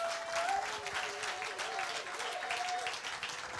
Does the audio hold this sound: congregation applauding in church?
yes